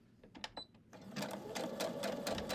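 A sewing machine stitches layered batik fabric shreds, the needle starting with a few separate bursts and then running into a steady, fairly loud continuous whir, close by and with no one talking.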